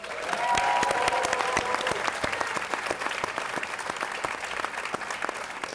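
A film screening audience at a Q&A for "After the Hunt" applauds in a sustained, even round of clapping with individual sharp claps standing out, with a brief tone near the start.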